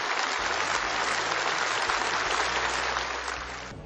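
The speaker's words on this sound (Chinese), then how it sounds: "在热烈的掌声中" Warm, sustained applause fills a large hall at a Communist Party meeting, a dense continuous roar of many hands that eases slightly toward the end, with no voices.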